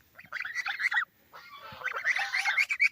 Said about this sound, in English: Two new baby Chinese gooses.